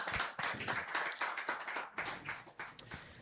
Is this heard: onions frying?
no